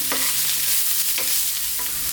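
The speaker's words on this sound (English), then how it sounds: "So high heat all the way here. Keep stirring." Carrots stir-fried over high heat in a pan, a steady dense sizzle with a few scraping stirs spaced through it, close and fairly loud.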